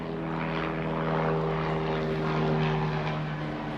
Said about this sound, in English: Got a helicopter flying over the corner here.